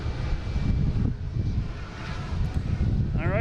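Jet aircraft engines at Boston Logan International Airport, a steady broad roar heard from a distance, blended with wind buffeting the microphone.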